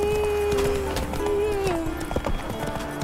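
Roach, Geralt's horse in The Witcher 3, gallops with steady clip-clop hoofbeats under game music, with tonal musical lines running throughout.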